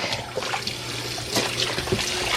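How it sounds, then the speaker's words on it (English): Warm water runs and splashes over the beater bar of a no-ice, no-salt ice cream maker as it is quickly rinsed, a continuous close trickling with small clinks, no talking. "you gotta rinse it out quick, and that beater bar. So do that with warm water."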